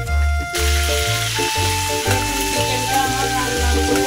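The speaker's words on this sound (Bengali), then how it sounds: "চিকেনটা আমার লাল লাল করে ভেজে দিয়েছি" Chicken pieces fry in a pan for a chicken roast, giving a continuous close sizzle with a steady tonal hum underneath, loud and unbroken throughout.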